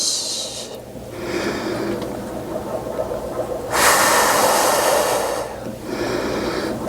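Long, hissing breaths during a Pilates reformer exercise, close and fairly loud, coming in several drawn-out waves with one stronger exhale in the middle and no talking.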